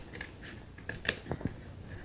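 Scissors snip through a cardboard box in a few short, crisp cuts, close and moderately quiet, scattered irregularly over a soft background hiss.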